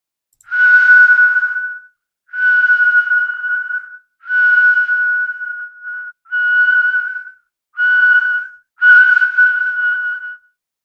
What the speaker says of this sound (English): So that little dirt here on the whistle